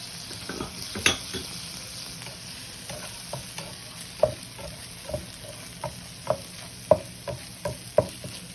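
Shredded hash browns sizzle steadily in a hot pan for a Waffle House–style breakfast. A spatula scrapes and taps at a regular rhythm, close up, with no talking.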